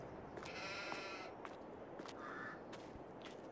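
Sheep bleating in Farming Simulator 22, a few separate bleats and calls, moderately close and faint, over a soft steady background.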